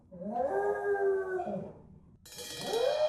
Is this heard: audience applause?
no